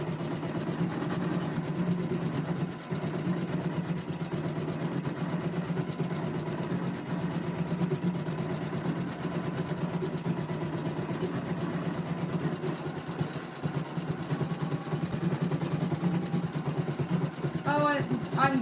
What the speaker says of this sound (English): The machine that I'm working on is a Janome Continental